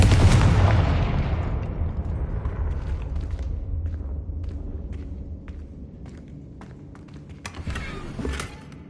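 Confringo spell blast in the Hogwarts Legacy video game: a loud booming explosion at the start that decays into a long rumbling tail, followed by scattered small crackles and a brief swell near the end.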